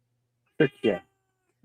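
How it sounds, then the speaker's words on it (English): Pet cat Ariel gives two short, close meows in quick succession, followed by a brief third chirp, with a few spoken words nearby. "And that's my cat, Ariel."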